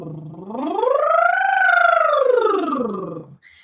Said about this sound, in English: So you can either be doing something like a lip buzz,